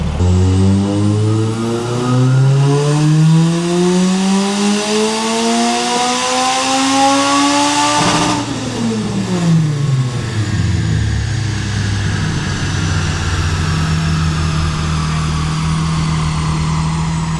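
A Nissan S13 with an SR20 engine on a dyno revs loudly and steadily up through the range over about eight seconds, then the pitch drops sharply and settles into a lower, rough idle.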